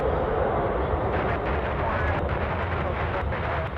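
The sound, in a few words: Boeing 737 taking off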